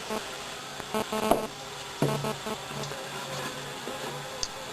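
Honeybees from a package buzz inside a Bee Buddy hive after being shaken down, a steady moderate drone with a few louder bumps and rustles near the start and middle.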